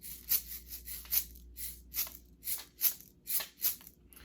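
A rice shaker rattles in soft, quiet, rhythmic bursts, a gentle hiss-like swish repeating about twice per second.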